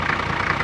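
A Toyota Land Cruiser 77 (HZJ77) diesel engine idles steadily and loudly up close, an even, unbroken rumble with no talk over it.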